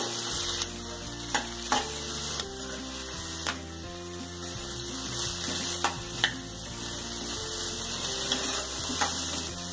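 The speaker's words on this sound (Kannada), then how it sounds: "ಗ್ರೀನ್ ಪೀಸ್ ಹಾಗೂ ಗೋಬಿ ಇದಿಷ್ಟನ್ನು ಹಾಕಿ ಒಂದ್ಸಲ ಸರಿಯಾಗಿ ಮಿಕ್ಸ್ ಮಾಡ್ಕೊಳ್ಳೋಣ." Green peas, beans and cauliflower stir-fried and mixed in a pan for shavige uppittu: a continuous sizzle broken by rhythmic scraping strokes of a spatula and a few sharp clacks against the pan.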